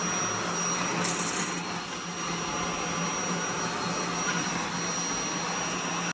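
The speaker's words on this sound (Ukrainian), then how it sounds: "Можна і таким звичайним пилососом, але цей у мене ручний такий і це ж зручніше." A handheld vacuum cleaner runs close by with a loud, continuous whirring hum and a steady high tone, staying unbroken for several seconds with no talking over it.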